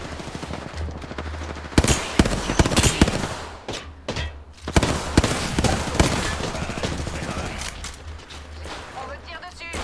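Video game gunfire in a battle royale match, with bursts of rapid automatic shots and single cracks in loud clusters, mixed with game effects and players talking over it.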